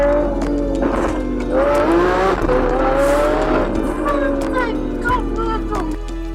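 A Lamborghini supercar drives past with a rising engine roar and a brief tire squeal, loud and near, under a steady low rumble, with a voice talking over it.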